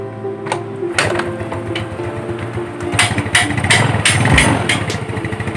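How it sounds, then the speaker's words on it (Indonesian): A Yamaha Mio Sporty motorcycle engine fires up after a brief starter whir, then settles into a steady, close, loud idle with a rapid even putter and faint clicks over it. "Dihidupkan dulu motornya ya."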